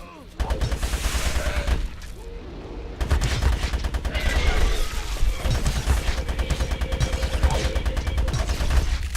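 Rapid SMG fire in the shooter game GRAV, firing in dense bursts of heavy rounds with a short pause early on, loud and continuous, mixed with impact crashes and game effects.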